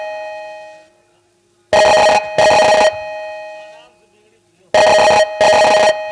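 A telephone rings in two double bursts of bright, tonal electronic trills separated by a pause, loud and close, with a sustained tone fading under it in the gaps.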